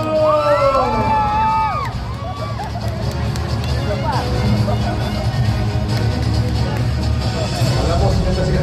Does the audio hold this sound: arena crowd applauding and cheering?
yes